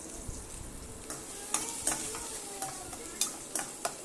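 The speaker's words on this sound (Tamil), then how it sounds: "நல்லா பொறுமையாக கலந்து விட்டுடலாம் வெங்காயம் நமக்கு நல்லா வதங்கி வரணும்" Sliced large onions are stirred as they fry in a pan for a capsicum kurma: a soft continuous sizzle with scattered spoon scrapes and clinks against the pan, close by and without talking.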